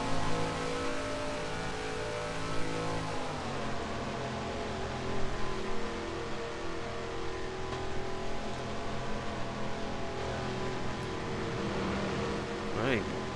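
Racing cars in the Second Life video game circle a big oval track in a rookie event, their engines droning steadily with rising and falling revs throughout, close and continuous, with faint talk underneath.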